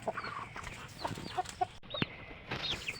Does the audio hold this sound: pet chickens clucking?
yes